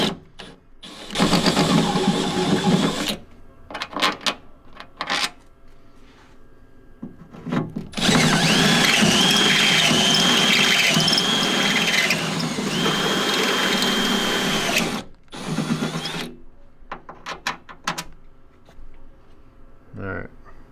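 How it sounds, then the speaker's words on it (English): A hammer drill bores into a 1997-2006 Jeep TJ while a Metalcloak fender flare is fitted, loud grinding bursts of several seconds each starting and stopping, with short pauses between and one long sustained run in the middle. "has this got a hammer drill mode?"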